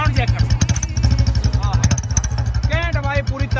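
Royal Enfield Bullet BS7 motorcycle fitted with a turbo whistle exhaust, idling and revving with a steady close thumping beat and faint whistling tones, while someone talks over it.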